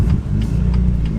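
A tuned BMW M2, heard from inside while driving, gives a steady low engine and exhaust drone with a constant rumble and no talk over it.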